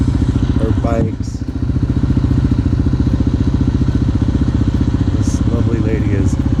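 Several motorcycles idle together while being warmed up on a ride from Casas Grandes to Creel in Mexico. The engines make a steady, loud, continuous rumble, with a brief dip and a few clattering sounds, and people talk over it.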